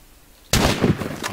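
A single sharp, loud gunshot cracks out of near silence in the Rust survival game, followed by a ringing tail and a second fainter report.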